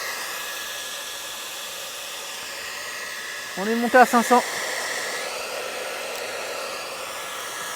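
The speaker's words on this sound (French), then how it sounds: "rien que le sèche-cheveux tout seul, il tire déjà quasiment 2000 watts" A hair dryer on maximum heat, drawing nearly 2000 watts, runs with a constant airy hiss throughout, while a person speaks briefly in the middle.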